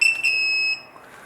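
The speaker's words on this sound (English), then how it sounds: "All the pagers beep." An AGJ wireless restaurant pager gives a single sharp, high electronic beep lasting under a second, loud and close, then fades to quiet.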